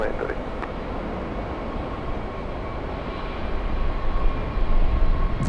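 A large Qantas airliner at Los Angeles International Airport, a broad steady engine roar building louder toward the end, with a person talking over it.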